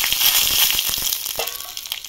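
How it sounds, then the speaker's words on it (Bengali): Five-spice seeds and bay leaf hitting hot oil left from frying small fish, giving a loud, close, steady crackling sizzle with dense popping that eases slightly toward the end. "এবার ওই তেলে ফোড়নে দিয়ে দেবো 5 ফোড়ন"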